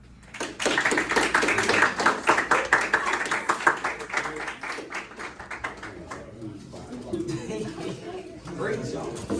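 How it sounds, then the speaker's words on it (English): A small group of people in a classroom-style mentoring presentation claps in a quick, dense run that peaks early and then thins out, with chatter and light laughter mixed in near the end. "Please clap."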